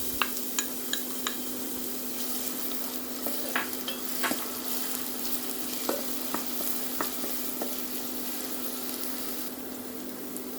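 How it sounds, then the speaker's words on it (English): Chopped onion frying in hot olive oil in a pan, for lamb mince with tomato: a steady close sizzle with scattered clicks and scrapes of stirring, no voices. "now once the oil hot, let's add our onion."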